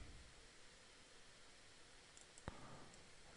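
Computer mouse clicks during 3D rigging work, a few faint, sparse clicks in a quiet room, with one sharper click near the end.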